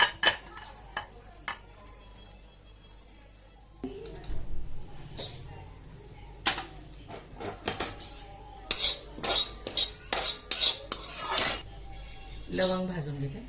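Cloves being dry-roasted in a pan for mango pickle: sharp metallic scrapes and taps of a spoon stirring against the pan, irregular and close, with someone speaking between the clinks.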